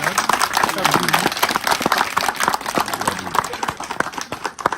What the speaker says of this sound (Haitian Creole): On va un petit applaudissement pour moi, pour monsieur Ilan.